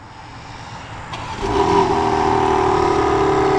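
A 2024 BMW M3 Competition xDrive fires up by remote start, its engine catching about a third of the way in with a quick rev flare before settling into a steady, rumbling idle through the quad-tip dual exhaust, close and loud.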